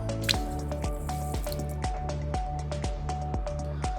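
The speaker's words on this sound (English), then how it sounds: "once you're ready to let go of the water, you're gonna open up the valve" Water released through a hose valve on a food truck, heard as steady rhythmic dripping and squishing plops with a resonant tone, repeating evenly and close by.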